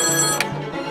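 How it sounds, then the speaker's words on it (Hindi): A telephone rings loudly and close with a bright electronic trill, one short burst of ringing with no voices. "ये फोन भी तेरी ताईडी की तरफ बजे जा रहा है"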